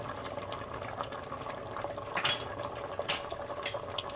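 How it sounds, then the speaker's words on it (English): A pot of Kerala-style sambar bubbles and simmers on the stove, a steady wet gurgle with occasional louder pops and spits, heard alone and close. "It's bubbling away nice."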